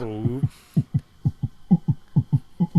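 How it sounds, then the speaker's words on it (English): A rapid heartbeat sound effect thumps in quick paired beats, loud and close, after a brief voice at the start, during a tense courtroom-style questioning scene. "heart beating quickly"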